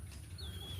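A sick rooster with the respiratory illness ngorok, a spurless fighting cock, gives a faint thin whistling wheeze that rises and falls over a low steady hum, ending in a brief stronger squeak.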